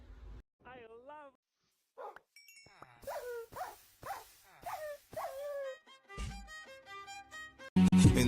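A dog barks and whimpers up close in a series of yelps and whines, mixed with bursts of other noise and talk.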